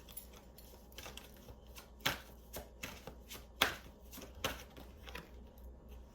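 Tarot cards are shuffled close up: soft riffling with several sharp flicks and slaps at irregular intervals, no talking.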